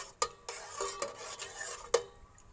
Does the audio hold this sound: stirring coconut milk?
yes